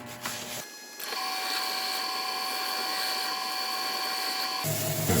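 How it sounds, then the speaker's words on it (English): Buffing wax onto a turned segmented wooden bowl spinning on a lathe, a steady high whine with sustained tonal hum from the machine, continuous for several seconds between brief pauses at the start and end. "and then the wax. I'll just buff this in"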